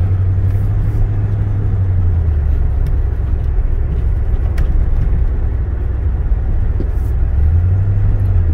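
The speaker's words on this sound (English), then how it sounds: "Nothing like a good running old truck." A 1992 Ford F-150 XLT long-bed pickup, old and well-worn, driving along with a steady low engine drone and road rumble inside the cab, the engine pitch sagging and then rising again as it moves under load.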